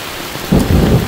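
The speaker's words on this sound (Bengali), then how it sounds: "প্রচুর বৃষ্টি, আর আকাশে প্রচুর পরিমাণ দেওয়া ডাকতেছে।" Heavy rain pours down loud and close while a burst of thunder rumbles in partway through, all within a brief moment.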